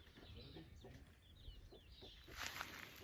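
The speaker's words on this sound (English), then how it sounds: "our chickens are having a crow off right now" Backyard chickens and roosters call back and forth near a garden: scratchy clucking and a louder crow-like burst near the end, over steady outdoor background noise.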